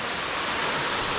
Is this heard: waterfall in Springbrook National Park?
yes